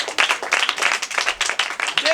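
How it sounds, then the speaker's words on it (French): Children clap in a group during a church children's ministry session, a dense irregular patter of hand claps lasting about two seconds and mixed with voices. "Applaudissez pour la nuit."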